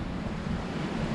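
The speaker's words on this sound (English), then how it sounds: "that wind's picking up" Storm wind during a stealth camp on a stormy night, a steady, loud, blustery roar buffeting the microphone without a break.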